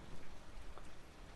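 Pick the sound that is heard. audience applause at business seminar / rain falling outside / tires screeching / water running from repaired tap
rain falling outside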